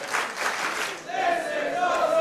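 A pro wrestling crowd at an Attack! Pro Wrestling show erupts in loud shouting and cheering after a kickout, a roaring wash of voices that dips briefly and then swells again.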